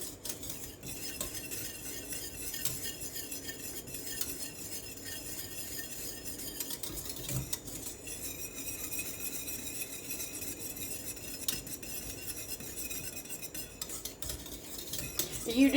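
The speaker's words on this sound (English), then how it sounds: "You want to whisk that." Syrup for homemade pancake syrup being whisked in a big pot, a steady metallic scraping and clinking of the whisk against the pot running continuously at close range, with a faint sizzle underneath.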